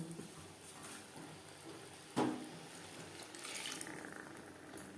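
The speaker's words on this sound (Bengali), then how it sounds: "দিয়ে দেবো জল" Water is poured into a pan of onions and spices fried down for a sea-fish (mourola) tomato curry. There is a steady wet rush with a sharp splash partway through and a brief swell near the end. No one speaks.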